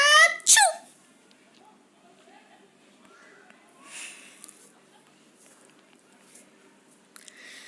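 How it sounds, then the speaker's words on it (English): A bear's sneeze in a children's story, one sharp, close burst near the start, with faint rustles and soft breaths in otherwise quiet surroundings; the sneeze is likely voiced by the storyteller. "Suddenly, the bear sneezed."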